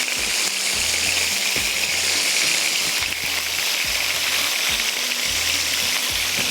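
Large fish pieces dropped into a yogurt gravy in a pan, giving a steady close sizzle and bubbling with a few soft splashes and thumps, no talk over it.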